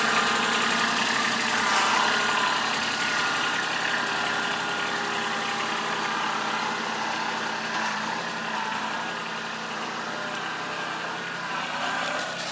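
A tractor engine idles steadily nearby, a constant mechanical drone with no revving, running alone without talk.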